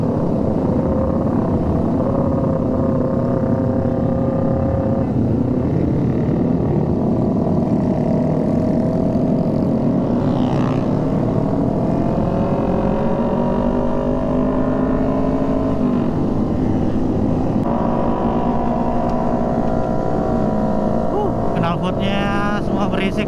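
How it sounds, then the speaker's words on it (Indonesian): Motorcycles with loud racing exhausts ride a busy city street at night in Makassar, among models such as Ninja, CB150, CBR150, MT15 and NMAX, a steady close engine drone with rising and falling revs throughout. "Knalpotnya semua berisik sini boy, semua pakai knalpot racing sih."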